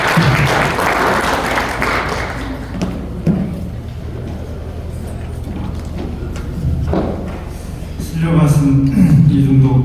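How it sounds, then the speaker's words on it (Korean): An audience claps to welcome a speaker at a church social-mission policy conference session; the applause is full for a couple of seconds, then fades under someone talking into a microphone. "박수로 환영해 주시길 바라겠습니다."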